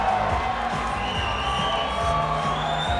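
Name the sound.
crowd cheering for a fighter entering the cage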